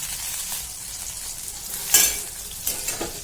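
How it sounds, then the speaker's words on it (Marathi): Green chillies roasting in a pan for kharda, a steady soft sizzle throughout with a couple of brief louder scrapes or stirs near the end; no voices. "मिरच्या आपल्या छान भाजत आलेल्या आहेत चांगले डाग पडायला लागले आहेत त्याला"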